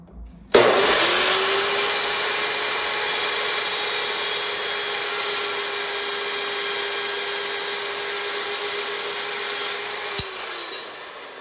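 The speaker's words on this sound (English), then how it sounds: "These things called chop boxes is what they are, but you just want to ease your way through the material." A chop saw cutting through metal stock in a shop while building an ATV hitch. It starts abruptly, then gives a loud, steady, high whine with an abrasive grinding hiss for about ten seconds before stopping.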